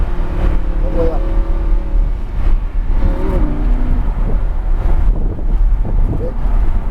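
A 610 HP Lamborghini Huracan runs on the Dominion Raceway track in Virginia under light throttle, a steady engine drone buried in loud wind rush, while people talk over it.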